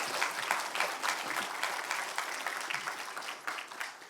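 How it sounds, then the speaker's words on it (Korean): An audience at a church worship service applauding to welcome a speaker, a steady dense round of clapping that tapers slightly toward the end, moderately distant. "Please welcome him with a big round of applause."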